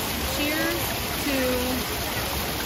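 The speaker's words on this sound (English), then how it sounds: "Nice cool breeze of the waterfall." A waterfall at Epcot pours in a steady broadband rush, close and loud, with faint voices speaking briefly over it.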